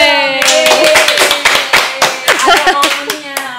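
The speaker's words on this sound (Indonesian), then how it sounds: "tepuk tangan dong" A small group in a podcast studio claps hands in quick, uneven bursts, close and loud, while voices talk and laugh over the clapping.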